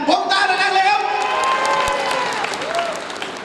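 An audience at a Thai stage event bursts into applause mixed with cheering and whoops, while loud voices ring out over the clapping before it fades slightly.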